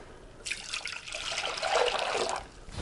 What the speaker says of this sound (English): this is my vessel for vinegar. I'm gonna put a little in here. I'm gonna fill this one right up.